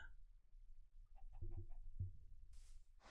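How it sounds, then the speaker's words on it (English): A short run of soft, quick clucks from a chicken, quiet and somewhat muffled, followed by a brief burst of noise. "A chicken."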